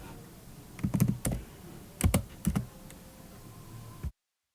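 Computer keys are typed in short bursts while JavaScript code is written. The clusters of crisp, close keystrokes are separated by brief pauses over a quiet background, and the clip ends in sudden silence.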